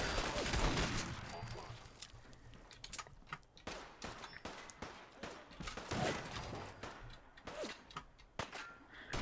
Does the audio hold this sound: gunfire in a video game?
yes